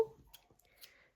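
Worn, nearly worn-out scissors snip chunky yarn while a crocheted granny-square scarf is made, giving a few soft, quiet clicks spaced apart in a hushed room.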